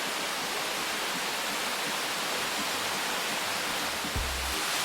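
A waterfall roars steadily up close, a dense unbroken rush of falling water filling the whole span with no voices.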